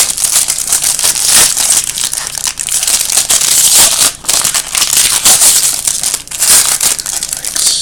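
A foil Panini trading card pack is torn open and crinkled, loud close crackling and ripping in dense bursts with a few brief pauses.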